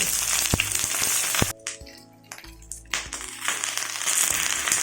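Fish frying Kerala style on a banana leaf in a pan, a steady loud sizzle that cuts off briefly midway, then returns with crackling pops and spatters.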